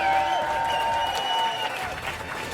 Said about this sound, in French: qu'on applaudisse les gens du staff